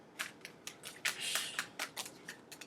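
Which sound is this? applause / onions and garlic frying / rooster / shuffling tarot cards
shuffling tarot cards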